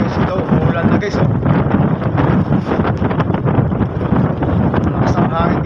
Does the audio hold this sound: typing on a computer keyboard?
no